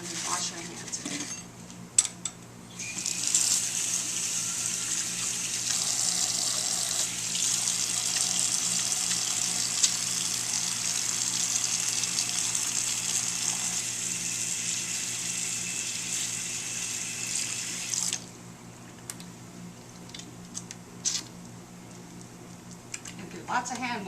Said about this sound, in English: And wash our hands again.